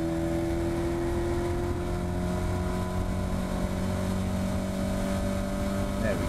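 A Caterham Academy race car engine drones steadily at speed on the Cadwell Park circuit, loud and close with sustained tones, while a voice talks over it.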